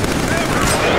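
Rapid automatic gunfire from the Killzone 3 shooter game rattles on continuously and loudly through the whole short moment, dense and close.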